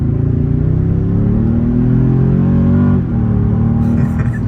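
A 2023 Toyota Tundra pickup accelerates, heard from inside the cab as a loud, low engine drone that climbs steadily in pitch, dips briefly as a gear shifts, then pulls on again.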